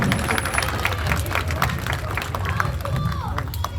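Audience cheering and clapping for a trained sea lion at a show, brisk irregular applause with scattered shouts and crowd murmur, moderately loud and sustained.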